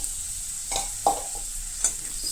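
Onions and a spoonful of paste are mixed together in a pan for vada pav, with a steady hissing sizzle broken by a few sharp spatula scrapes against the pan.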